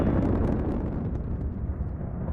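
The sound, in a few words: explosion in the video game Subnautica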